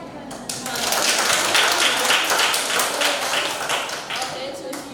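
Students in a mathematics classroom applauding a student group: dense, steady clapping from many hands that starts abruptly and continues evenly to the end.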